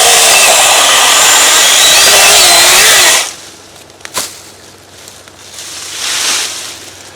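Chainsaw cutting a felled tree into firewood-length pieces, loud and steady at first, then cutting off abruptly into quieter outdoor ambience with a brief knock and faint noises.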